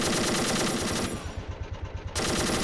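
Machine gun fire in an Army Men video game battle, a loud, rapid, continuous rattle of shots that briefly thins to separate bursts before the full barrage resumes.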